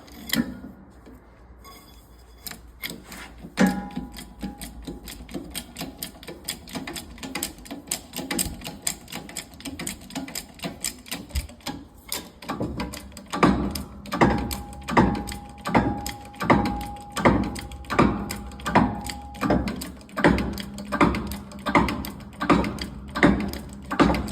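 A tool presses a nylon radius arm bush into a Range Rover P38, making a rapid series of sharp mechanical clicks and ratcheting knocks that grow louder and settle into an even rhythmic beat, with a faint steady squeal running partway through.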